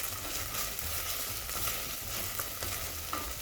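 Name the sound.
onions and garlic frying and being stirred in a pan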